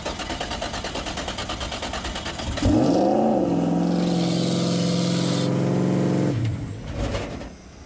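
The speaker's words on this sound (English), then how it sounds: "It may just be a video of the car going on the trailer." Race car being driven up onto a trailer, its engine idling with a rough rattle, then surging into a loud, steady drone for a few seconds before cutting back, close by.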